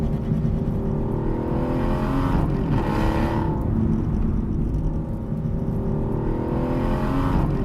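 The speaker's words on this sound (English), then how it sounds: "under the hood, there's a 6-liter V12 making 565 horsepower and 457 pounds of torque" Aston Martin V12 Vantage S with a 6-liter V12, a loud continuous engine drone with a brief swell of revving midway, close and alone without voices.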